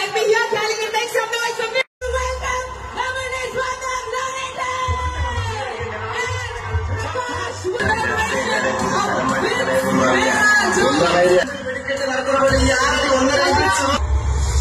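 A large crowd at a jewellery shop inauguration in Kozhikode roars, shouts and whoops for the actor Mohanlal's arrival, a dense continuous din with voices calling out over it and a brief cut near the start.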